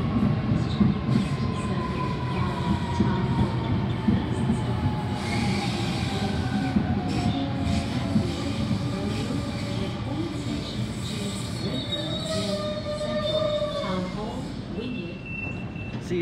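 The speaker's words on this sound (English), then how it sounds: "And A61 departing platform number 2." A Sydney A61 train pulls out of platform 2 at Lidcombe station, a steady rumble of wheels and motors with rising whine tones, heard close and continuous, with a station announcement voice over it.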